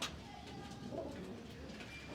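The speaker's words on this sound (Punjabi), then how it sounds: "ਇੱਧਰ ਵੱਡੇ ਕਬੂਤਰ ਬੈਠੇ ਨੇ ਸਾਰੇ" Soft, low cooing of racing pigeons close by, a couple of murmuring calls over faint background noise.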